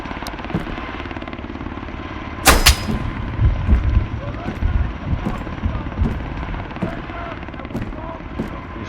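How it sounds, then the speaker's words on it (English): Gunfire in the survival shooter Road to Vostok, one sharp loud shot followed by scattered thuds and impacts over a steady low rumble, with a player talking. "He's shooting me from this direction somewhere."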